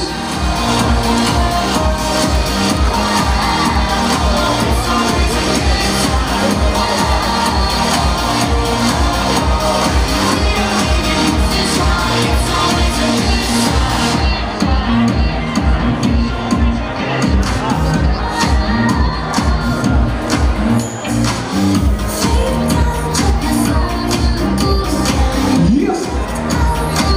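Guests at a bat mitzvah celebration clap and cheer in a loud, continuous crowd ovation with rhythmic hand claps, while an emcee talks over the room.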